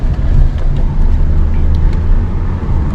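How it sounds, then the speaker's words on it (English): A Hyundai Elantra with a newly replaced alternator on a test drive, heard from inside as a loud, steady low engine and road rumble that holds without a break. "Let's take this thing on a little bit of a test drive."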